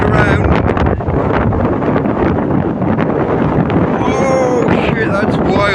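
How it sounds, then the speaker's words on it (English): A strong, cold wind blasts steadily across the microphone outdoors after a thunderstorm, making a loud, continuous roaring buffet, with brief faint sounds mixed in. "Oh, that's a cold wind and it's a strong wind."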